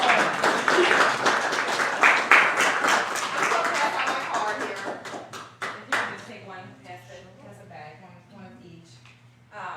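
Audience applause for a guest speaker at a live business talk event, dense clapping filling the first six seconds and then thinning to scattered claps that fade out.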